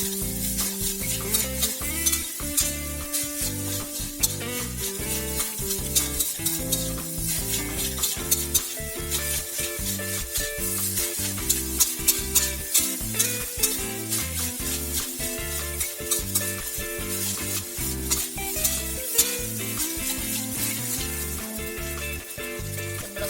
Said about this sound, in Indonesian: Kita goreng sampai merah